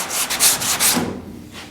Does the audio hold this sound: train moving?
no